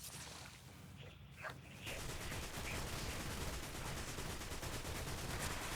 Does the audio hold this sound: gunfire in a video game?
yes